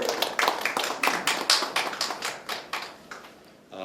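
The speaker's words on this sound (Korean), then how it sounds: "박수로 모셔주십시오" Sparse applause at a Seoul transit union forum as the railway and subway council's executive chair is welcomed to speak, a small crowd producing distinct, uneven claps close by, thinning toward the end.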